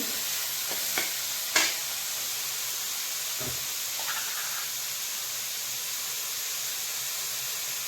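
Chopped tomatoes frying in a pan, giving a steady, faint sizzling hiss with a couple of brief scrapes or knocks from stirring near the start.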